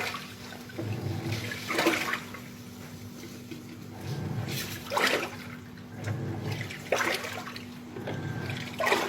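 Water pours steadily into the drum of a Panasonic washing machine being filled for cleaning, a continuous rushing splash that swells in periodic surges over about nine seconds, with no voices.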